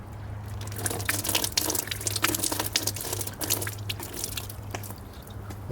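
Water pours and trickles out of a MINI Countryman sunroof drain tube in a steady, close splashing stream with a low hum underneath, and no one speaks.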